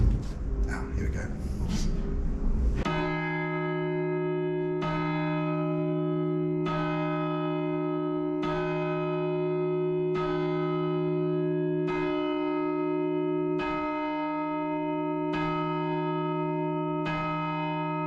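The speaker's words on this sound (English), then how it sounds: "So that's the biggest bell, not this one." A large church bell tolls in steady, resonant strokes roughly every couple of seconds, each ring humming on with long overtones, heard loud and close after a brief noisy start.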